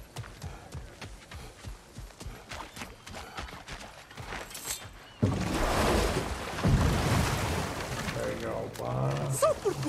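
A boat moving across water in God of War Ragnarok, with a steady wash of splashing and lapping waves rising in the second half after quieter footsteps-like clatter, and a voice briefly heard near the end.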